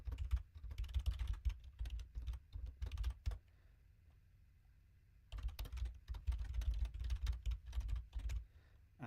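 Rapid keystrokes on a computer keyboard while editing a config during Alpine Linux and Sway desktop setup, clattering in dense bursts for several seconds, pausing briefly, then resuming steadily and close up.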